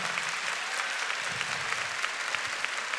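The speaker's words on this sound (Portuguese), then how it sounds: "E eu queria que você aplaudisse" Steady applause from a church congregation during a Catholic priest's talk fills the space, a dense wash of many hands clapping at moderate loudness with no speech over it.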